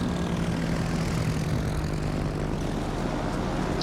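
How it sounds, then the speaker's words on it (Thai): Propeller aircraft engine drone from a carrier plane in the naval battle game World of Warships, a steady continuous hum at even loudness throughout, with no talking. "เครื่องบินก็วิ่งช้ามากเลยครับท่านผู้ชม"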